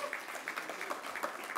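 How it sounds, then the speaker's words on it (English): Applause for the winners at the Aroi & AIR Radio4Child Awards 2019, a brief, moderately faint spell of crowd clapping with an uneven, pattering rhythm and a hint of voices underneath. "Let's have a huge round of applause for all the winners"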